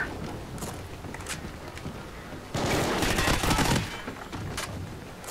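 A sustained burst of automatic covering fire in Call of Duty Ghosts rattles loudly for about a second, framed by scattered distant shots and battlefield noise before and after.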